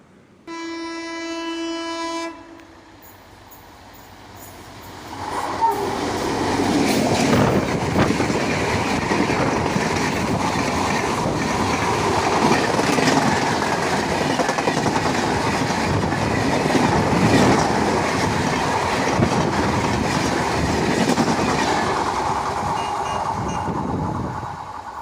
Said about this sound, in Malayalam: ആലപ്പുഴ ഭാഗത്ത് നിന്ന് എറണാകുളത്തേക്ക് ഒരു ട്രെയിൻ വരുന്നുണ്ട്